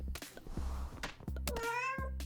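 A cat meows in the video game Hand of Hexes: several short, loud mews in quick succession, the last one rising and drawn out, with busy game sounds underneath.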